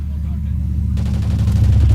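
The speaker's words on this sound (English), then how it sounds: "Try to shoot these guys around here" SA-805 rifle fire in Call of Duty: Ghosts, a loud, close burst of rapid shots over a steady low rumble of combat.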